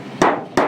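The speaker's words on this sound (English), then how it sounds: "so I'm going to hammer that in and under" Two sharp hammer blows strike a folded metal corner on an outer cover, spaced about a third of a second apart, close and loud.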